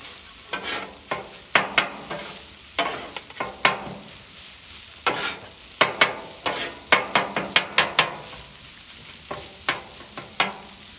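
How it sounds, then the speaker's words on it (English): Chicken fried rice with soy sauce being stirred on a Blackstone griddle: steady sizzling frying under repeated scraping clicks of a metal spatula against the flat top, close and irregular, with no talking. "sauce in there and start mixing it together, you start getting that color. Just keep mixing it up."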